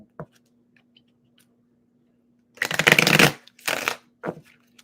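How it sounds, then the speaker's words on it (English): A deck of tarot cards riffles in one quick shuffle, followed by a shorter second riffle and a soft tap, close and clear against silence. "One more shuffle."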